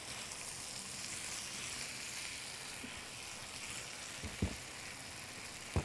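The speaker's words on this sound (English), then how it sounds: "We're going to stir that together." Zucchini and lima beans frying in a pan, a steady soft sizzle throughout with a couple of faint clicks of a utensil stirring near the end.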